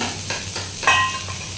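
Cauliflower frying in oil while being stirred in a pan: a brief burst of crackling sizzle with a few quick scraping strokes and a sharp metallic clink near the middle, close and clear.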